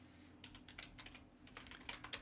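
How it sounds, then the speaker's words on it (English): Quiet, fast typing on a computer keyboard, with irregular bursts of clicking keys close to the mic against a low background hum and no talking. "I'm doing horrible with the typing today"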